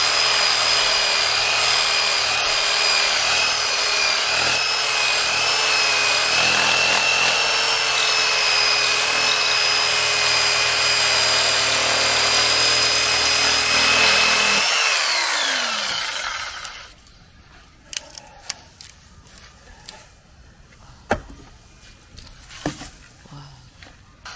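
A loud electric chainsaw cuts steadily through a storm-fallen tree for about fifteen seconds, then stops, leaving scattered knocks and faint outdoor noise.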